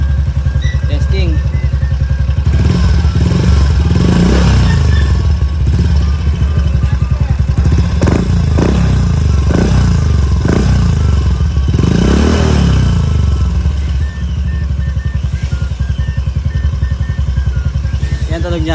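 Yamaha Mio i 125 scooter fitted with a JVT V3 exhaust pipe, engine running loud and close with rough idle and several blips of revving, voices talking over it at times.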